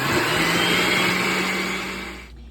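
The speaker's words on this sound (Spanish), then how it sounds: "Pero yo prefiero hacerlo en caliente en la licuadora." A kitchen blender whirs steadily at high speed, pureeing hot zucchini and chayote soup with Philadelphia cream cheese. The loud, close motor whine holds even before it winds down and cuts off near the end.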